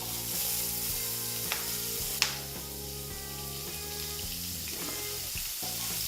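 Diced onions fry in a pan with a dash of salt for a Bengali kofta curry, giving a steady close sizzle with a couple of sharp clinks over a low background tone.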